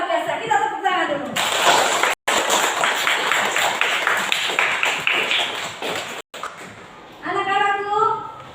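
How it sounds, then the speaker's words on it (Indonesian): Classroom of children clapping together for several seconds in a steady, dense burst, with a teacher's voice talking just before and right after. "Kita tepuk tangan dulu."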